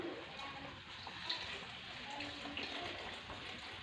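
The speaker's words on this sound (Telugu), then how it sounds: "ఒక గ్లాస్ వాటర్ వేసుకోండి" A glass of water poured into a pan of stuffed brinjal curry (gutti vankaya kura) makes a steady, fairly faint splashing rush that lasts the whole moment.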